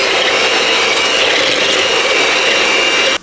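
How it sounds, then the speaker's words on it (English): Butter and sugar whisked together in a bowl for a vegan egg bake, giving a steady, loud, continuous scraping and rubbing whir close up that runs without pause and stops abruptly at the end. "So we're gonna just put the butter and the sugar together and whisk that out."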